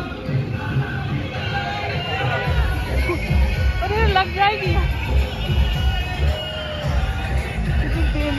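Dense crowd babble at the Bara Devi temple in Kanpur on Ram Navami, many voices overlapping in a continuous loud hubbub with a few nearby voices calling out over it.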